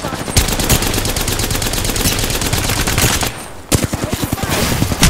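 Sustained rapid automatic gunfire in a video game battle, loud and close, with dense overlapping bursts, a short lull near the end, then a fresh volley of sharp shots.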